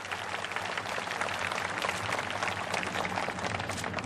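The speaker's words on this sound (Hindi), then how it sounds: "तालियां बजा के आप स्वागत करेंगे।" Crowd applause welcoming Narendra Modi at the Chhattisgarh Rajyotsava state celebration, a continuous, even wash of clapping from a large gathering, fairly distant and uniform in level.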